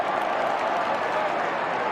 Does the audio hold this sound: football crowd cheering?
yes